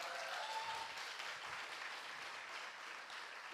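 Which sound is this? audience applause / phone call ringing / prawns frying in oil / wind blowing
audience applause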